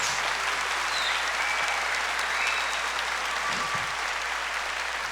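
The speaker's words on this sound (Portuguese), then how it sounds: "E eu gostaria de uma calorosa salva de palmas para esse povo todo." A warm round of applause from a church congregation at a Catholic Mass, dense continuous clapping filling the whole stretch at an even, fairly loud level.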